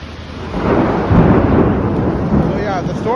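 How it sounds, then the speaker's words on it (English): Rumbling thunderclap from a severe thunderstorm directly overhead, a loud broad roll building and sustained across the moment, with a faint voice at the very end. "There's the thunderclap. Right over top of us."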